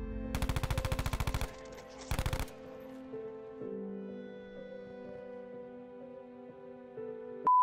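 The Switchblade X9 submachine gun in Black Ops 4 fires two rapid full-auto bursts, a long one and then a short one, followed by game music with sustained tones.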